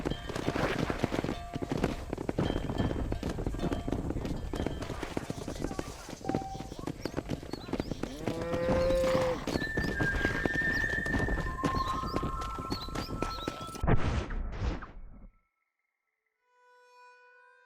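Horse in the Red Dead Redemption video game gallops with steady clip-clop hoofbeats and whinnies, a loud neigh standing out midway, while someone shouts and talks over the game audio before it cuts to near silence at the end.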